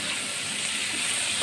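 Sliced carrots hit a hot pan of already-cooked meat for chop suey, setting off a loud, continuous sizzle and frying hiss that stays steady from start to finish with no talking.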